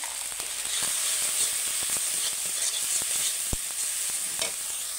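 Turmeric and chilli powder frying into a ginger, cumin and onion paste for a raw mango and snakehead fish curry: a steady close sizzle with soft scraping stirs and a few sharp utensil clicks, no voices.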